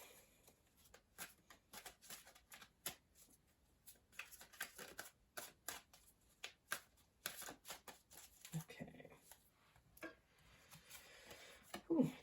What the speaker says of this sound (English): I will give them a light shuffle before I use each one